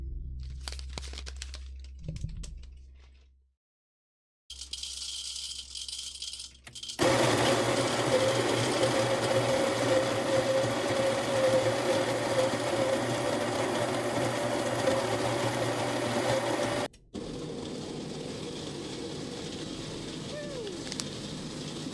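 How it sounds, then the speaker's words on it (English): A small electric grinder whirs steadily for about ten seconds, loud and close, then cuts off abruptly and is followed by quieter room noise. "I like to grind this up with my little electric grinder that I have over here."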